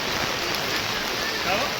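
Heavy monsoon rain pours down on a busy street in Vasai-Virar, a steady, dense hiss of falling water with a faint voice underneath.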